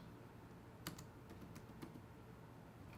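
A short search is typed on a computer keyboard, producing quiet, close key taps in an irregular patter over a low background hum.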